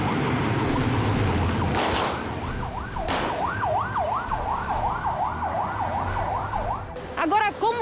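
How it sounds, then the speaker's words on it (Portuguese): A police car races past at high speed in the Zumbi neighbourhood, its wailing siren rising and falling steadily for several seconds. Two sharp, loud bangs come just before it over a rumbling street background. "É possível ouvir a sirene e também disparos de arma de fogo."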